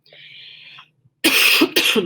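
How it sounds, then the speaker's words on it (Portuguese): A faint breathy hiss, then two sharp, loud coughs in quick succession, close up. "desculpa a minha tosse"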